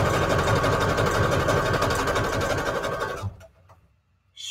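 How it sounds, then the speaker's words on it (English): A sewing machine stitching long fabric strips together runs in a fast, steady mechanical whir for about three seconds, then stops abruptly, leaving near silence and a brief knock. "So I'm just making sewing long strips together at this point right now."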